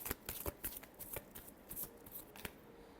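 A deck of tarot cards is shuffled by hand, producing quick soft riffling flutters and taps in an uneven rhythm, close and faint.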